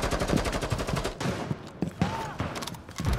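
Rapid bursts of gunfire in the tactical shooter Rainbow Six Siege, dense rattling volleys with short pauses, loud and close throughout.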